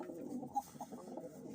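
Turkish Takla pigeons in a loft give soft, low cooing murmurs, faint and close, with one slightly louder coo partway through and no voices.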